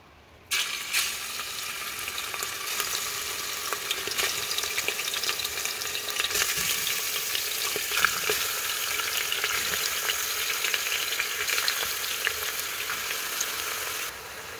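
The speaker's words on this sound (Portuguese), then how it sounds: "E agora eu vou dar uma leve dourada nessa carne" Unseasoned beef browns in hot oil in a pot for a Brazilian vegetable stew, giving a loud, steady, close sizzle with occasional stirring scrapes and no talk.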